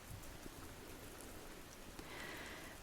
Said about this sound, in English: I'm sure you've already noticed, but it's been drizzling rain.